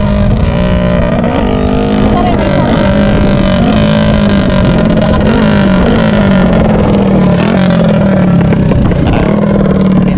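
Drag race car engines at Palawan's first legal drag race rev loudly and continuously, a dense roaring drone with shifting pitch filling the scene, engine sweeps rising and falling, with faint voices underneath.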